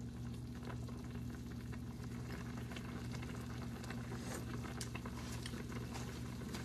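A pot of broth for pancit canton bubbles and simmers quietly, soft continuous popping and patter over a low steady hum, no talking.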